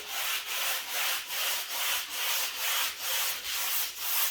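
A small wooden sanding block rubbed back and forth over a dried first coat of black paint on a bench, about ten steady rasping strokes in an even rhythm, close and alone.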